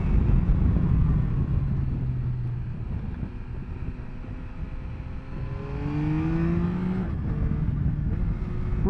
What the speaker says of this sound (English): Really like this motor when you rev it.